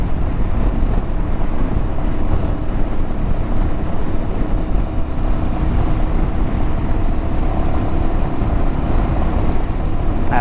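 A car driving along the Pacific Coast Highway, giving a steady, loud rumble of engine and road noise mixed with heavy wind buffeting, continuous and unbroken with no voices.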